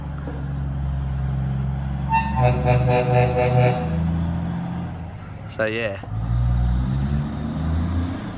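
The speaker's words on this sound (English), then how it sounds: "There goes the old truck." An old truck in Australia rumbles as it pulls away, its low engine drone steady beneath a quick run of short horn toots, with people talking nearby.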